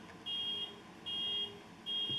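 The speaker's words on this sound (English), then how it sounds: "That's a weird something, Carl, a phone alarm." A phone alarm going off during a committee meeting, three evenly spaced sustained electronic beeps repeating in a steady pattern, moderately loud over a quiet room.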